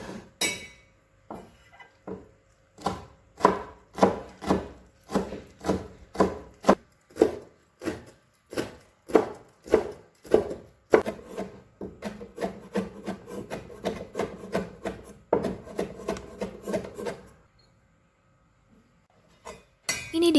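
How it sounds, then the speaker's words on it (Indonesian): A knife finely chopping mushrooms on a cutting board, a long run of close, crisp rhythmic taps that speed up into rapid strokes, then stop briefly before a few last cuts. "Kemudian jamurnya diiris kecil-kecil ya bun,"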